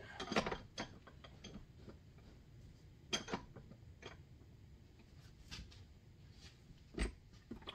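A pistol part, from an FNX-45 Tactical handgun, being clamped in a bench vise: scattered sharp metallic clicks and ratcheting knocks, close and fairly quiet, with brief gaps between them and no talking.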